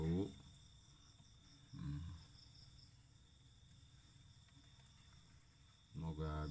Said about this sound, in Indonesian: pisahkan jangkrik ini indukannya